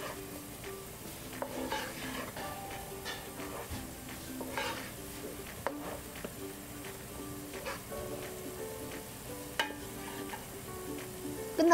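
Dumpling soup broth seasoned with salt and pepper is stirred as it boils, a soft continuous bubbling and swishing with small ladle taps throughout, close and fairly quiet, with no one talking.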